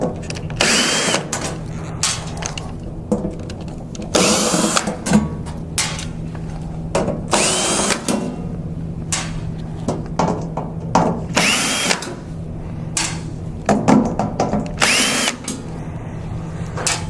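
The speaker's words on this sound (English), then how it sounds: "I'm going to go ahead and remove the screws." Power drill or driver taking screws out of a machine's side cover, repeated short whirring bursts with pauses between them, close and fairly loud, with no talking.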